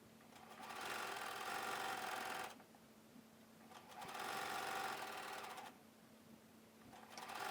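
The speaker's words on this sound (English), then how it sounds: "So we're sewing everything with that 5/8 inch seam allowance that's included in the pattern." A sewing machine stitches a seam with a 5/8 inch seam allowance in a rapid, steady whirring hum, running in three bursts separated by brief quieter pauses, close and clear with no talking.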